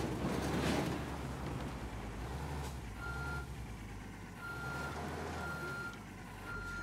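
Video game truck in Ghost Recon Wildlands reversing, its engine rumbling low and steady while a reversing alarm beeps at regular intervals, moderately loud and close, with some wind noise around.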